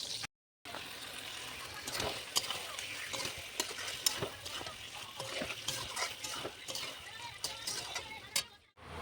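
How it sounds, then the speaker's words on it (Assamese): Fish sizzles in hot oil in a home kitchen pan, a steady close crackle with occasional stirring clatter and splatter, running almost the full length before a brief break near the end. "মাছখিনি ভাজা হৈ গ'ল প্ৰায়।"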